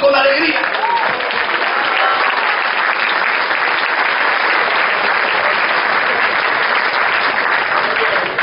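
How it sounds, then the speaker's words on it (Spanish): A congregation at an evangelical church service claps loudly for several seconds in a sustained, dense roar of applause, with a brief voice heard at the very start. "Aplauda al Señor con alegría."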